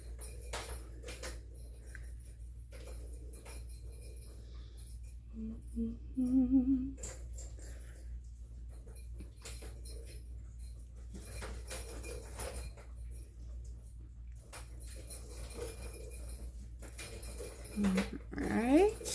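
A kitten kept indoors on a hot day makes faint, high squeaky whimpers in the background of a home kitchen during cake baking, a few brief bursts over a steady low hum and light clatter.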